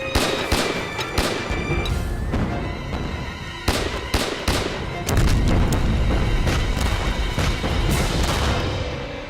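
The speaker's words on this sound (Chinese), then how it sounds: "日军的炮轰一过，就可以进入阵地了" Artillery bombardment in a war film, Japanese shells landing in a dense, continuous barrage of heavy booms and crackling blasts with no gaps, loud and close throughout.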